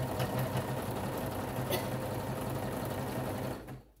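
A sewing machine stitches pajama bottoms in a continuous, steady whirring run close by for over three seconds, then stops abruptly near the end.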